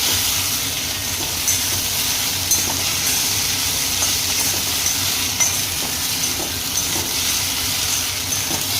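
Okra frying in a pan with oil and asafoetida, a steady close sizzle and hiss running unbroken throughout, with a few faint stirring clicks and no talking.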